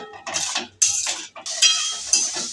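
Spice paste with salt and a splash of water frying in a pan for a fish jhal, stirred with a utensil: loud, close bursts of sizzling and scraping that come one after another, with no talking.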